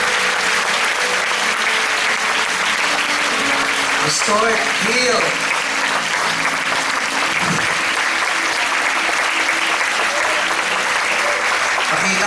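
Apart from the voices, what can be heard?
congregation applause in church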